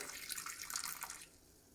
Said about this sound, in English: 120 grams of red wine. So just pour a little bit by hand.